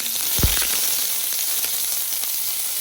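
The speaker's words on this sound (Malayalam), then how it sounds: "ചുവന്ന ഉള്ളി പച്ചമുളക് ഇതൊക്കെ നമുക്കൊന്ന് ഇട്ട് കൊടുക്കാം ഇതൊന്ന് വഴറ്റണം" Shallots and green chilies frying in a hot pan, a steady, fairly loud sizzle and hiss after a brief knock as they go in, no voices.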